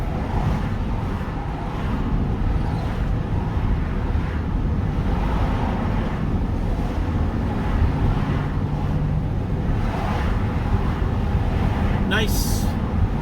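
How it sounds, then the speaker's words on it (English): Steady wind roaring and buffeting against the microphone, constant and loud throughout, with a brief sharp noise near the end. "it's a little windy and breezy"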